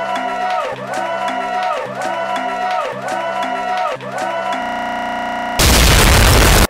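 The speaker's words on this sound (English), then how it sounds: "why is the same crowd of people always applauding me for my performance?" A loud burst of crowd applause in the video game S.T.E.G erupts for about a second after a looping, repetitive stretch of music.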